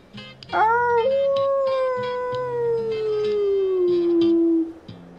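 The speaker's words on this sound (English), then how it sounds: "The largest and oldest coyote howled back to me." A single coyote gives one long, loud howl that slides slowly downward over about four seconds, with a lower rhythmic sound repeating beneath it and no talking.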